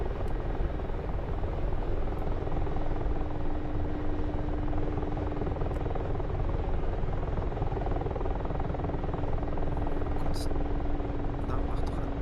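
Helicopter in a video game, a continuous loud rotor drone with a steady hum, unbroken across the whole stretch with occasional faint talk over it.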